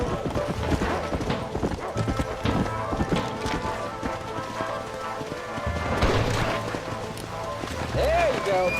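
Horse hooves clip-clop at a run in the Western video game Red Dead Redemption, a steady close galloping rhythm with an occasional whinny, under ongoing talk and game sounds.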